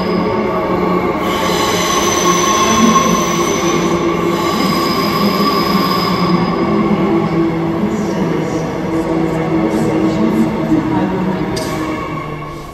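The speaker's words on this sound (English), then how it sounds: "So here I am on the new train line, first day after it was opened yesterday" Steady rumble and rattle of a passenger train in motion on a newly opened airport line in Western Australia, heard from inside the carriage, with faint high squeals of wheels on the rails throughout.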